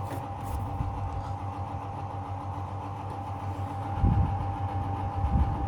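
An old Simpson Model 164 washing machine pumping out water on a hot whites cycle, a steady low motor hum with a constant tone and a rougher gurgling surge near the end.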